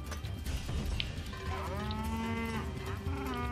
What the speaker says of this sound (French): Et la vache passe.